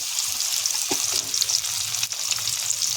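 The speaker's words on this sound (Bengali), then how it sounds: "এখানে মাংসের জন্য আলু কাটা আছে, আলুটা ভেজে নেব।" Cut potatoes fry in hot oil with salt and turmeric, giving a loud, close, steady sizzle with a few brief stirring knocks.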